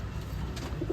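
A male fancy pigeon with feathered feet and a wide plate-like tail cooing close by, a low soft burbling call over a steady background for about a second, no talk.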